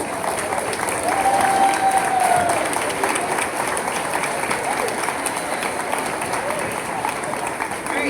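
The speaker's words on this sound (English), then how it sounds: "Please give these students a round of applause." Students at a middle school honors day in a large hall are applauded by a crowd, with dense sustained clapping and cheering at a steady level throughout.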